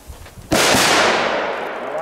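Crackling ball firecrackers set off outdoors burst with a sudden loud bang followed by a dense, sustained crackle that fills the rest of the moment, with a few faint voices and thuds just before.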